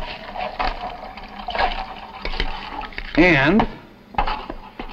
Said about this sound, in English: Would you put that ice in there? Okay. I'm going to add water.